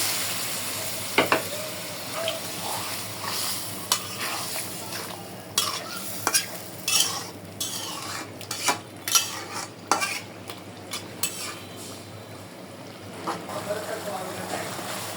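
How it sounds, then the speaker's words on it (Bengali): River tengra fish is stir-fried with spices in a pan, giving a long series of sharp, uneven spatula scrapes and clacks over a low continuous sizzle, close and fairly quiet. "আমার মাছটা কষানো হয়ে গেছে"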